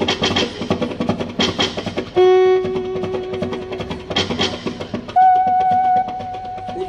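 A kirtan performer vocally imitates a train, alternating rhythmic chugging bursts with two long, steady whistle-like tones, close and clear with no other sound behind.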